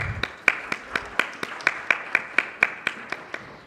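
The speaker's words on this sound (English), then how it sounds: "Let us give him a warm round of applause" A few hands clapping at a real estate summit to welcome a speaker, sparse and evenly spaced claps in a steady rhythm, fairly close and moderate in loudness.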